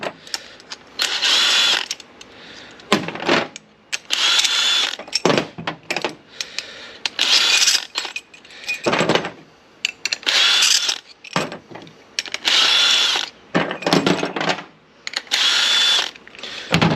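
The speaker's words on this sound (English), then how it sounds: "So then we'll clamp down the rails." Clamps being tightened onto tonneau cover rails with a ratcheting tool, giving bursts of loud, rapid clicking that start and stop repeatedly, separated by short quiet gaps.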